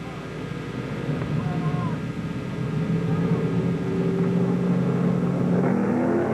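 At Road America in 1963, a pack of 60 racing cars rumbles and builds engine noise as the race starts, with a commentator talking over the roar throughout.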